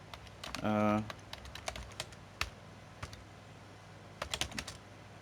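Fingers tap on a computer keyboard while a profile title is entered, giving sparse, irregular clicks and short clustered bursts of keystrokes, with a brief hum near the start.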